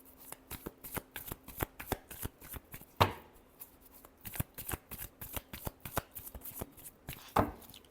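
Tarot cards riffled and shuffled by hand in quick, crisp bursts of flapping and tapping, close and fairly soft, with a sharper slap near the middle and another toward the end, no talking.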